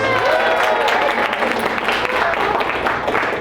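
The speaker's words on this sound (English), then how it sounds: "Give yourselves a round of applause." A crowd applauding loudly and steadily at an anime convention panel, with cheers and voices mixed into the clapping.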